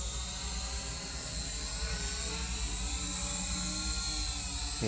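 A Syma X8C quadcopter drone hovers nearby with a constant high-pitched whine and buzzing rotor drone, steady and unbroken throughout.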